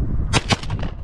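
An AR-15-style shotgun fires while hunting pigeons outdoors, a loud, sharp blast followed quickly by a second burst that fades into a short echo.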